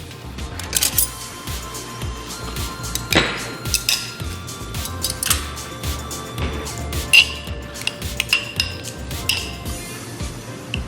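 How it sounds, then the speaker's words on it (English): A kitchen knife picked up and handled among dishes while cooking Caribbean surf and turf with lime and curry butter: repeated metallic clinks, taps and knocks of cutlery and pans, close and moderately loud, with no talking. "Get myself a knife."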